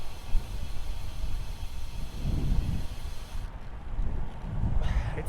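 Heavy wind buffets the microphone while riding a motorcycle on Vancouver Island, a constant loud roaring rush with gusts that swell and fade throughout.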